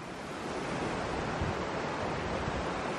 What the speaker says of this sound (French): Là, il y a la cascade.